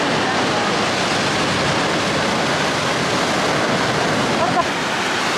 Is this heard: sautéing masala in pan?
no